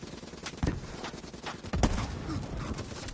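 Rapid video-game gunfire in bursts, with two louder shots standing out among a steady crackle of weapon fire during a frantic fight, no talking.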